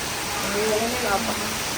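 Steady rain falls in a dense, even hiss that fills the whole moment, with people talking over it nearby.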